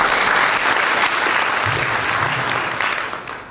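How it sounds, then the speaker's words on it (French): An audience at the opening of a national mathematics doctoral conference applauds, with dense, sustained clapping that holds steady for several seconds and then gradually thins out. "On les applaudit encore"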